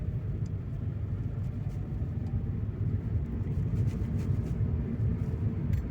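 A car with an automatic gearbox accelerates from a stop, its engine a steady low rumble that rises gently as the gears shift early at low revs, heard from inside the cabin with no talking.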